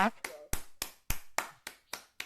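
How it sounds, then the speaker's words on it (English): Sparse applause closing a session talk on AI for community-led practitioners: about nine sharp, evenly spaced hand claps, close and fairly quiet, ringing briefly in the room with no voices. "A huge round of applause"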